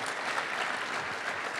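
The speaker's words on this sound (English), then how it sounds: "Round of applause for Mr. Caron Butler" Applause from a crowd at a summer basketball event honoring former NBA player Caron Butler, a steady dense wash of clapping that fills the short moment without a break.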